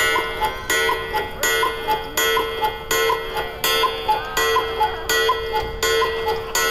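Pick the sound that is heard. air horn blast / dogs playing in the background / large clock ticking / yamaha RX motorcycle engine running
large clock ticking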